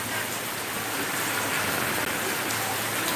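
Rain falls steadily in Aceh Jaya, Indonesia, as an even, continuous hiss of drops hitting surfaces at a fairly loud, unchanging level, with no talk over it.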